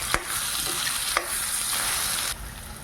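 A spoon stirs turmeric, salt and chili powder into an eggplant and green chili curry in a hot pan, scraping and sizzling steadily, loud and close, with a few sharp knocks against the pan.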